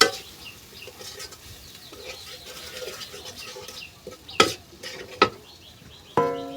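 Spice masala frying in a pan over high heat while being stirred: a quiet background sizzle punctuated by several sharp scraping strokes of a spoon, close, with faint birdsong in the background.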